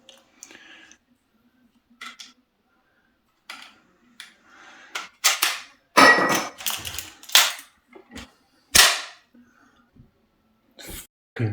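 A Milwaukee 18 gauge brad nailer dry fires, giving sharp, loud mechanical snaps and clacks at irregular intervals, close up, with handling clicks between bursts.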